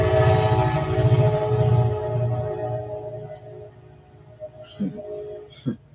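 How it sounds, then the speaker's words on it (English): A Kansas City Southern train heading eastbound rumbles loudly past with a steady mechanical drone, then fades as it moves away. A few faint voice-like sounds come near the end. "Here comes the train."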